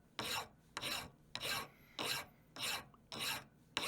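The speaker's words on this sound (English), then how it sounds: "Here's me hand filing, to moderate accuracy, the head of the hammer flat." A small hammer head being hand filed flat with a hand file: seven steady, close rasping strokes in an even back-and-forth rhythm, with short pauses between them and no talk.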